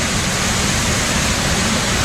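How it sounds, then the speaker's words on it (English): Waterfall near Staircase by Lake Cushman on the North Fork Skokomish River trail, a steady, loud, close broadband roar of falling water with no break and no voices. "this is the first waterfall you get to see"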